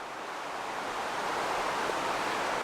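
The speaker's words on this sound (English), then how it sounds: "To hear the river flowing there next to you." Steady broadband rushing of a river flowing in a park in Olympia, Washington, continuous and fairly close, with no voices or other distinct sounds over it.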